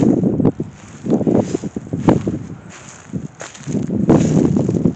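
Gusty wind buffets the microphone in uneven bursts, loud rumbling swells rising and falling over a few seconds, with tin roofing shifting in the wind.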